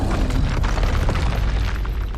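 A combat spell cast in the video game Hogwarts Legacy, a dense, booming magical blast with a low rumble that holds for about two seconds.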